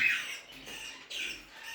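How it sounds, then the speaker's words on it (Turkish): A two-month-old male forpus parrot gives a pair of sharp, shrill squawks close by, separated by a short pause, with no talking. "Bu da erkek forkus papağanımız 2 aylık"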